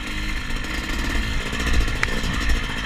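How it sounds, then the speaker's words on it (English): A Yamaha YZ250X motocross bike engine chugs along steadily at close range, a loud, continuous two-stroke drone with a few brief surges in the throttle and no talking. "It's pretty much a motocross bike, SX bike."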